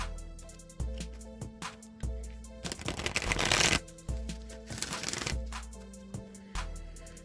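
Tarot cards being shuffled by hand, a run of crisp riffling flicks close to the microphone with one longer burst of dense card riffling in the middle, over faint background music.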